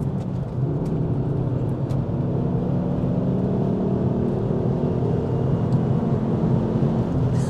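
A Ford Mk2 Focus ST heard from inside while driving hard on the road, with a steady, loud engine drone and road roar that holds constant throughout, no talking.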